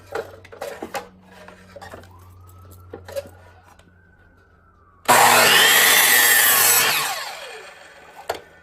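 A blade saws through wood in a burst of loud, bright rasping strokes that start abruptly partway through and fade out after about two seconds, preceded by quieter clatter and a faint tonal whine.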